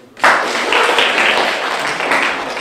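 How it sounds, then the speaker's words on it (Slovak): A second burst of audience applause at a club event in Púchov starts abruptly and continues as steady, full clapping for a couple of seconds. "Poprosím ešte jeden potlesk."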